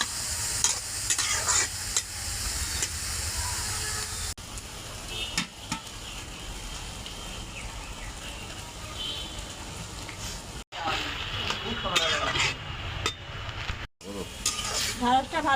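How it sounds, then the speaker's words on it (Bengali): Okra being stir-fried in a pan for a lentil chorchori, a continuous close sizzle with frequent scraping and stirring of a spatula against the pan, briefly interrupted by short gaps. "তাই ঢ্যাঁড়সটা কষিয়ে নিচ্ছি।"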